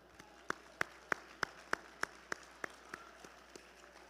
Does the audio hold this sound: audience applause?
yes